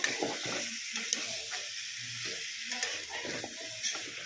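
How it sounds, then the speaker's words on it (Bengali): Chopped vegetables and chicken pieces for a homemade chicken stew sizzle and hiss in a hot pan, with close scraping and clinking strokes of a stirring spoon repeating irregularly over the steady frying noise. "কাঁচা সবজির গন্ধটা চলে যাওয়া পর্যন্ত আমি এটাকে একটু নাড়িয়ে চাড়িয়ে নেব"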